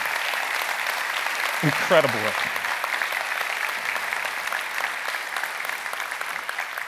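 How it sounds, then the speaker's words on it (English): An audience at an opening ceremony applauds an Engineering Excellence Award winner. Moderate, even clapping runs throughout while a voice speaks briefly near the start. "Join me with a round of applause"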